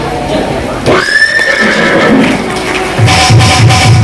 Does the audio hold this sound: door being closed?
no